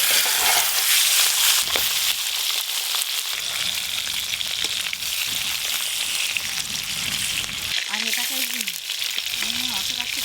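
Fish sizzling hard in hot mustard oil in a home kitchen, a loud continuous crackling fry with occasional stirring, heard close up without talk.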